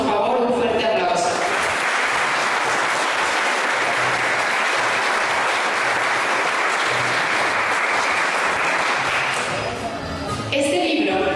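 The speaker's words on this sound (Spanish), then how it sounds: "para quien les pedimos por favor un fuerte aplauso." Loud, sustained applause from an audience greeting author Antonio Ruesga Barba at his book presentation, a dense wash of many hands clapping that swells after a second and holds steady before tapering near the end.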